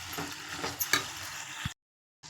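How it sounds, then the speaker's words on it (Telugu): A spoon stirs a broad bean pulusu curry mixture in a pan, giving soft scraping and wet sizzling sounds for under two seconds before cutting to silence. "దీన్ని బాగా కలబెట్టుకోవాలంట, బాగా"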